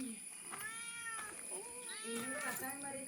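A house cat meows repeatedly at close range, several drawn-out, rising and falling cries in quick succession, with people talking quietly at home in the background.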